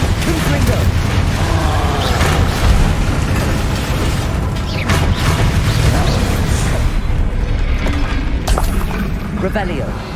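Confringo and Bombarda spell blasts from Hogwarts Legacy, a dense stream of booming bursts and pops over continuous game music and mechanical clatter, loud and constant throughout.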